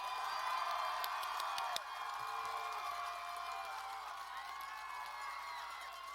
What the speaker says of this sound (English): Let's give these graduates a big round of applause.